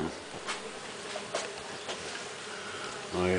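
Melipona stingless bees hum around a flowering ora-pro-nobis plant, a soft, close buzz with a few brief passes swelling louder as individual bees fly by.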